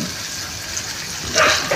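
Water gushes into a cooking pot holding breadfruit with onion, chili and lemongrass for breadfruit dinuguan, a steady close pour that swells louder near the end.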